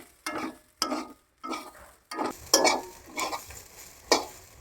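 Rice marinated with turmeric, salt and ghee cooks in a pan on a gas stove, giving a soft sizzle and a series of distinct, spaced scraping stirs, close and without talk.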